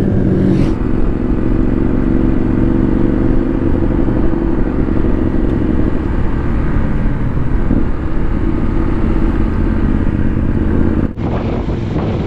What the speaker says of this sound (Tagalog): Parang bumagal yung mga naka-big bike.